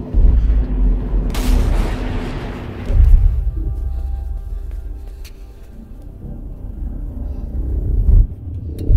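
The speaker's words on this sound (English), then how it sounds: "I believe there's a nuclear blast in the distance." A deep, rolling rumble of a distant nuclear explosion in a video game fills the clip, with a sharp crackle early on and the low boom slowly fading before swelling again.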